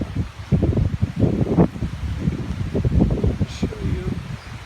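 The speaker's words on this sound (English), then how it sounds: "It's still windy. The wind speed is too high." Strong gusty wind rushes through leaves outdoors after a heavy hailstorm in Kaseri, Murree, a constant roaring rustle close to the microphone, with someone talking over it.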